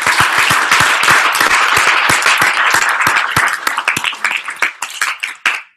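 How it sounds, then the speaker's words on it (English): An audience claps loudly and steadily for several seconds, then the applause thins into scattered, individual claps before fading out. "Let's give a round of applause for Jeremy."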